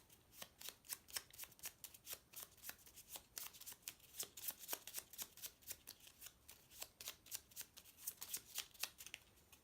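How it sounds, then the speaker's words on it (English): A deck of Heroes of Terrinoth game cards is shuffled by hand, with rapid, crisp riffling flutters repeating in quick bursts, close and clear with no talking. "we take these all together and shuffle all these together"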